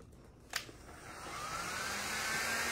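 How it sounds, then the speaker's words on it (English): A heat gun blows a steady, airy whoosh close by while it warms glue on a pink cabinet, swelling slightly louder after a brief knock partway through. "Going back in with my heat gun"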